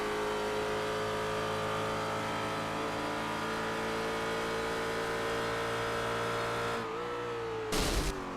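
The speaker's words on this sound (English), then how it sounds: "just listen to this engine note then, coming down into the corner" Ashby Motorsports race car at Road Atlanta in a NEO Endurance Series round, its engine holding a loud, steady high-pitched note as it runs down into a corner, then dropping briefly before a sharp burst near the end.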